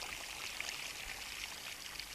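Brick moulds are plunged back into water at a handmade clay brickworks, giving a steady splashing, pouring wash of water that runs continuously with small drips and no voices.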